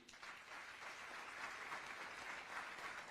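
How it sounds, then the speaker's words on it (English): An audience applauds at the 50th Foundation Day programme of IP&TAFS, a steady wash of clapping that holds at an even level through the whole clip, with no voices above it. "A round of applause for all of you"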